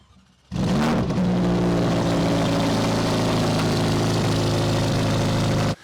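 A 2023 Ferrari Roma Mansory V8 with titanium exhaust fires up and idles loudly and close, a deep, steady, throbbing burble that cuts off abruptly at the end.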